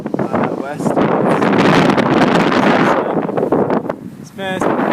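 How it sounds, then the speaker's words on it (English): Strong wind roars and buffets the microphone almost continuously while cycling between Newark, Delaware and Baltimore, Maryland, easing briefly near the end before gusting again. "It's been windy today."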